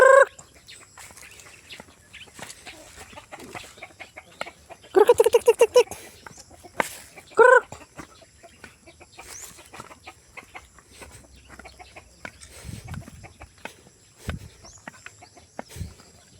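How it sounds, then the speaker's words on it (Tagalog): Chickens cluck in short bursts amid quiet outdoor clicks and rustling, the loudest calls near the middle, with faint sounds scattered throughout. "Nandito yung mga manok natin."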